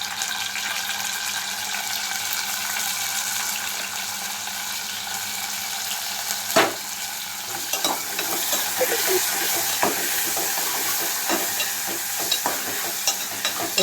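Chopped tomatoes sizzle loudly in hot oil in a pan for Telugu dried fish and raw mango curry, a steady broadband fry broken by a few sharp scrapes and clinks of a spoon stirring near the end.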